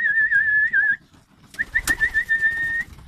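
Pigeons outdoors coo low and softly beneath a loud, warbling whistle-like call that stops, pauses, then returns in short repeated bursts.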